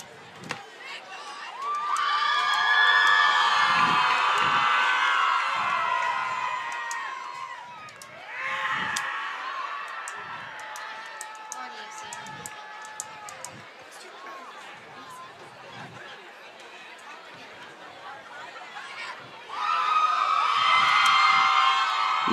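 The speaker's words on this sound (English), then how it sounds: "There you have our Eagles student section, one of the rowdiest group of people in the state, cheering on their Eagles" High school football student section cheering for the Eagles in a game against Preston: a large crowd roaring and shouting in long swells, fading to murmur and rising again, with an announcer talking over it.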